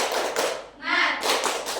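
Children clap a rhythmic classroom chant, the tepuk semangat, in a school lesson, giving quick bursts of hand claps with voices calling along.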